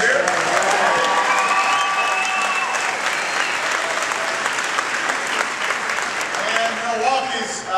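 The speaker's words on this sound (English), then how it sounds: "Please give him a big round of applause." A crowd at a presidential appearance at Wright Middle School in Madison, Wisconsin, breaks into sustained, loud applause lasting the whole stretch, with voices and some cheering rising through the dense clapping.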